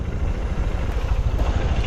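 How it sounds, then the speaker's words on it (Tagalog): A motorcycle engine droning steadily behind on a foggy dirt trail, a continuous low rumble with no talking. "may nakasunod sa atin na motor"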